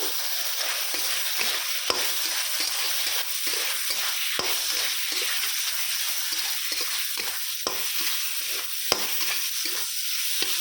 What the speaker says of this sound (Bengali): আর এটা ভাজা হচ্ছে